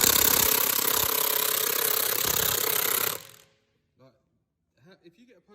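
A Milwaukee impact gun on its highest setting hammers at an over-tightened wheel nut on an Alfa Romeo Giulietta for about three seconds, loud and rattling. It then cuts off, and a few brief words follow in the quiet.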